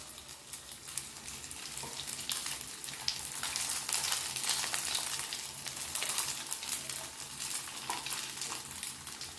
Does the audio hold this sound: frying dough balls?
yes